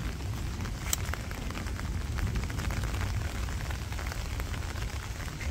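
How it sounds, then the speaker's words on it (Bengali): Rain falling over a village during a storm, a dense close patter of drops on surfaces with a rumbling low undertone and occasional sharper splashes, continuous and fairly loud. "তো মোটামুটি আর কি বৃষ্টি হইতেছে।"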